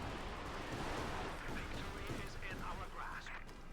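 An artillery barrage from the strategy video game Company of Heroes 2 rumbles in overlapping distant blasts and crackling impacts, with a voice talking over the bombardment.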